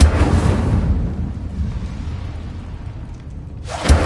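An Incendio fire spell in Hogwarts Legacy goes off with a loud burst of roaring flame that fades into a low rumble, followed by a second whooshing burst near the end.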